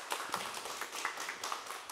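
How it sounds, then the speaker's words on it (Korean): Faint, sparse applause from a forum audience on local self-governance, a scattering of individual claps heard at a distance for a couple of seconds. "다시 한번 감사의 박수 부탁드리겠습니다"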